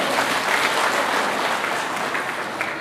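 A seated audience at a ceremony honouring couples claps in a loud, dense burst that stays steady, with scattered individual claps and no cheering.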